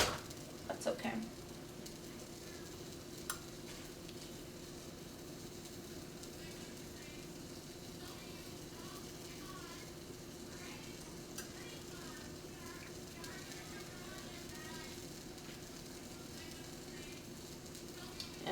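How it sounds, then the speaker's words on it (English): A vegetarian cheeseburger patty sizzles in a hot pan on a home stovetop, giving a steady, low crackling hiss that runs throughout with occasional faint clinks of utensils. "And I like how I can literally hear it sizzling."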